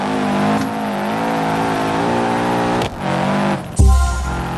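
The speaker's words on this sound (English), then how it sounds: "there are new sound effects for drift" A BeamNG.drive game car drifts, its engine droning and revving alongside sustained tire squeal; the sound drops out briefly, then returns with a heavy low thump near the end, loud and close, with no talking.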